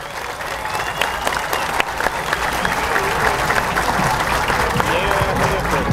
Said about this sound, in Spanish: Este aplauso que se sienta para Bartolo Durán